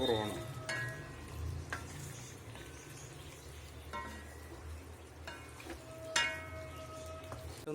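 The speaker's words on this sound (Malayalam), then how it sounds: "ഇനി ഇതൊരു ചെറിയ തീയിലിട്ട് വരട്ടി എടുക്കണം." Kerala beef roast sizzles gently in a pan on a low flame, a faint steady fry broken by a few scraping stirs and light clinks of a spoon against the pan.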